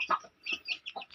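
Hens and young chicks being sold in Bhadradri Kothagudem, Telangana, clucking and peeping close by in short, uneven bursts, with no one talking.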